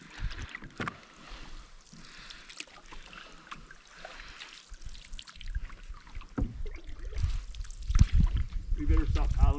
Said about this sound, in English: We better stop paddling so fast.